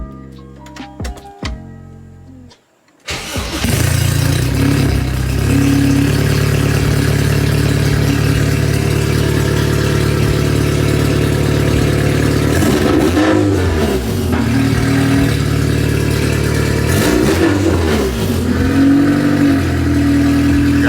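A few clicks and a brief pause, then a Honda K20 engine in an EG Civic starts and runs loudly nearby, with several short revs rising and falling over the steady drone.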